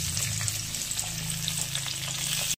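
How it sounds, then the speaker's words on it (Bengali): Green chili and onion frying lightly in a pan after garlic, for a Bengali dish of chickpea greens and mustard greens with potato, giving a steady close sizzle with faint stirring, no voices. "এবার কাঁচা লঙ্কা আর পেঁয়াজটা অল্প একটু ভেজে নেবো"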